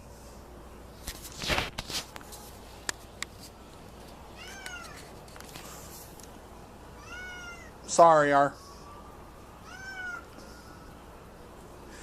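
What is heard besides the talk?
cats meowing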